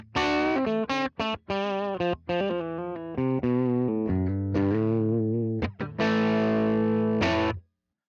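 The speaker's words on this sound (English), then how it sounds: "The 65 Black SR is based on a 1965 Fender Super Reverb with a larger 4x10 cab." An overdriven electric guitar plays a quick run of single notes and chords through a warm amp model of a 1965 Fender Super Reverb with a 4x10 cab, ending on a sustained ringing chord that cuts off.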